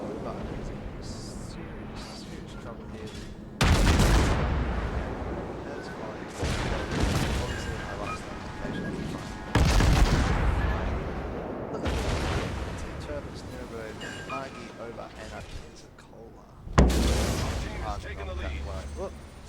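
Naval gunfire in World of Warships, several heavy booming salvos at irregular intervals over continuous battle rumble, with someone talking throughout.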